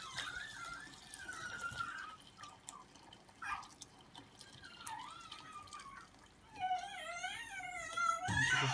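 Veal stock being poured through a sieve, heard as soft, faint splashing and trickling liquid with scattered drips, and a fuller gush of pouring toward the end.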